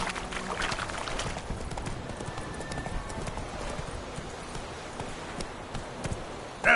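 Hooves of Roach, Geralt's horse in the video game The Witcher 3, clip-clopping in a steady continuous gait against a busy ambient background, with a short burst of louder noise at the very end.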